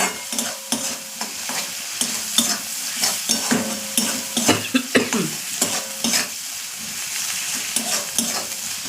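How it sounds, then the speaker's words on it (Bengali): Onions frying in a pan with steady close sizzling, broken by frequent scraping strokes of a spatula stirring them, no talk. "পেঁয়াজটা আর একটু ভাজা করে নিয়েই টমেটোটা দেব।"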